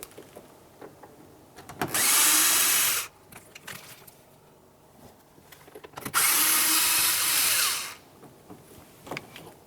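A power drill runs in two steady whirring bursts of about two seconds each, backing out Phillips head screws from a grab handle on a 1998-2002 Lincoln Navigator, with light clicks and handling noise between them.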